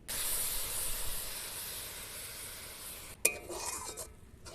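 Palm fruit pulp goes into a hot wok while making kodom pithe. A steady steamy hiss and sizzle lasts a few seconds, then a sharp utensil clank and stirring clatter follow.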